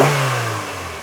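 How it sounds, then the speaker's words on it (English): A Honda D-series car engine revs briefly, a strong close roar that sinks slowly as the revs drop over about a second, with no talking. "it is a very strong D-series engine, so it's been used in Rovers and Hondas for years"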